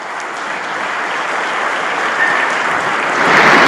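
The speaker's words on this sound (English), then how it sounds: "Please, I think we deserve a round of applause here." Audience applause at an investment conference in Saudi Arabia, a dense, sustained wash of many hands clapping in a large hall, loud and swelling toward the end.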